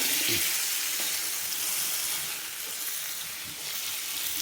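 Chicken sautéing in butter over a high flame for a butter garlic chicken dish: a continuous bright sizzle, close and fairly even, with a few soft stirring knocks.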